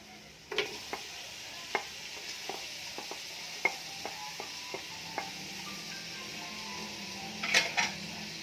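Chicken goes into a pot for sopas and gets stirred, giving a steady faint sizzle under repeated sharp clinks and scrapes of a utensil against the metal pot, with a small clatter near the end.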